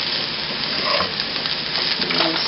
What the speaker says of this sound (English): you just want to gently stir this so that you don't break up the rice too much